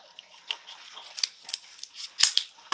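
Small garden scissors snipping a clematis stem, several sharp crisp clicks and snips at an irregular pace, close and fairly quiet, with no speech.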